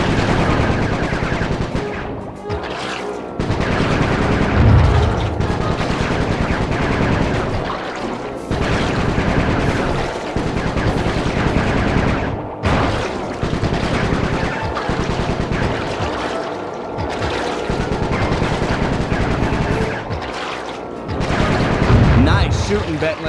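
Dense, continuous video game gunfire in Sly 3: Honor Among Thieves, loud bursts and booms rolling steadily for over twenty seconds with little pause.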